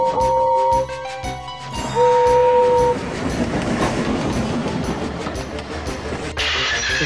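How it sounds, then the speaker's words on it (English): A steam engine's whistle sounds in a railway scene: two long steady whistle tones ring out over train noise and rumble, followed by a dense, loud rattling crash near the end. "Just then, he heard Gordon's whistle."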